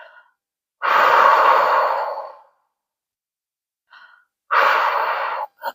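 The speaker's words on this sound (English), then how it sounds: "just breathe with me, okay?" Slow, deep breaths drawn close to the ear: a long inhale-exhale lasting nearly two seconds, a pause of silence with a faint catch, then another long breath, calm and deliberate.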